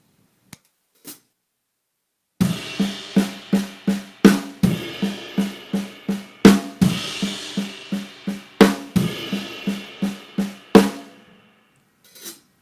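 Slow six-stroke drum roll on a kit, each group opened by a crash or ride cymbal hit with bass drum, repeating evenly about a dozen times with ringing cymbal wash between, after a couple of isolated taps.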